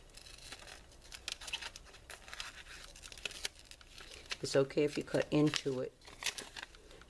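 Paper crinkles and snips as scissors cut close around the edge of a printed picture for a cut-out, with a run of crisp cutting sounds near the end and a voice talking over it.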